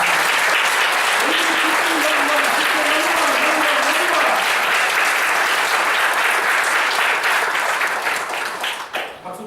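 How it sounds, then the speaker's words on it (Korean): A church congregation applauds loudly at a Maryland Presbyterian thanksgiving service, a sustained wash of clapping with a voice heard faintly beneath it before the applause tapers off at the end. "이날 하나님께 영광의 박수 할렐루야 드리겠습니다"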